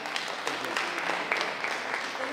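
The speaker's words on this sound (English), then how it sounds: "Let's applaud them." An audience at a university education seminar applauds with steady, moderately distant clapping that continues throughout, fairly faint overall.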